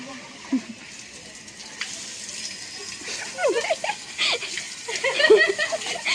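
Shower water runs and splashes while a child bathes, a constant close rush with splatters that grow busier toward the end, with voices talking over it.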